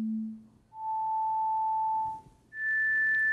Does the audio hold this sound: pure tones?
yes